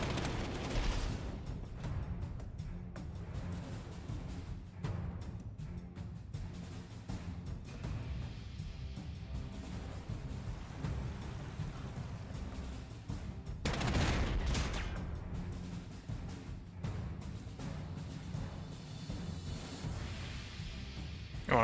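Gunfire and artillery in the wartime strategy game Panzer Corps 2 during a London campaign: a steady low rumble of distant shelling and shots with a louder blast partway through, no talk.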